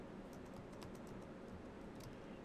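Typing on a computer keyboard to enter an HTML character entity search: faint, scattered key taps sit under a steady hiss of background noise.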